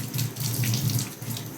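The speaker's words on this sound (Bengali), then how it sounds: "আমি এই ছাঁকনিটা নিচ্ছি ধুয়ে" Tap water runs steadily and splashes close by as a kitchen strainer is rinsed under the faucet, a continuous hissing flow with no talk.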